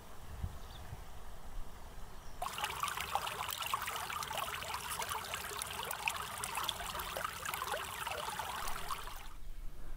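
A small spring brook named Lille Ravnkilde trickles into a stream near Ravnkilde on Lindenborg Å in Denmark, a steady close babble of water running without a break and with no voices.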